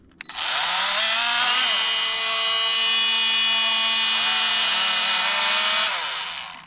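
A Milwaukee M12 cordless oscillating multi-tool runs steadily for several seconds, a loud close high-pitched buzzing whine that starts abruptly, holds level and winds down at the end, with no talk.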